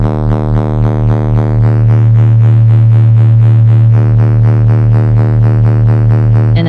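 A steady, buzzing synthesizer tone with a rapid fluttering pulse from audio-rate amplitude modulation, its timbre shifting slightly partway through; loud and continuous, with no voices.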